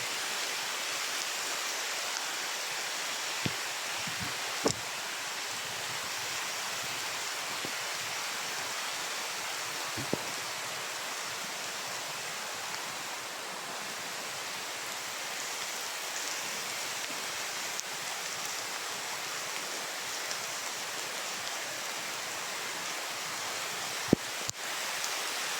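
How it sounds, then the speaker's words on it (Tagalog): Very strong wind roars in a steady, even rush with no letup, broken only by a few faint knocks; no one speaks. "Oh, sobrang lakas ng hangin."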